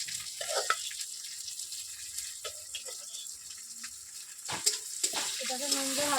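Raw prawns hit hot oil with onions in a pan, a soft steady hiss broken by scattered sharp pops and spatters, with a voice speaking faintly near the end.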